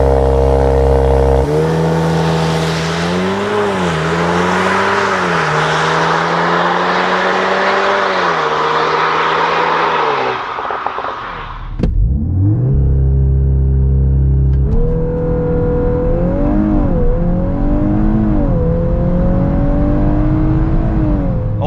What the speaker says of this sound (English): So let's kick it off with a 0 to 100 launch control